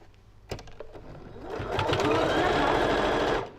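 A PAF 260C sewing machine stitching leather for trousers, starting with a few short clicks and then running in a loud, steady whir for about two seconds close up.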